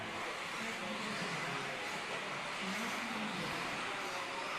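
Off-road RC race cars circle the track on a warm-up lap at a championship race, a steady broadband whir and buzz of motors that holds level throughout with no clear passes standing out.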